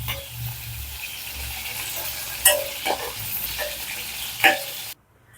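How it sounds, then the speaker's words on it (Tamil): Dried seer fish (nei meen karuvadu) frying in hot oil gives a steady close sizzle with stirring scrapes and a few sharp spatter pops before the sound cuts off abruptly. "இப்போ கருவாடு நல்லா பொரிஞ்சிருச்சு, எடுத்துக்கலாம்."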